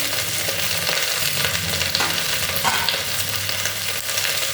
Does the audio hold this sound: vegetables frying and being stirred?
yes